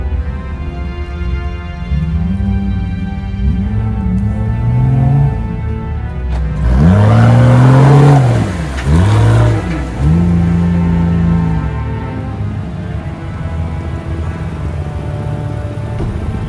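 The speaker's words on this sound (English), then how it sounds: "It's also cool watching that little Subaru roll through here." A small Subaru rolls along a wooded off-road trail at La Dee Flats OHV, its engine rising and falling in several revving surges as it climbs over rough ground, fairly close and steady, with no voices.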